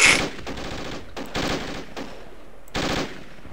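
Machine gun in Battlefield 2: Project Reality, rapid automatic bursts firing close and loud in several separate volleys with short pauses between them, no talking over the shots.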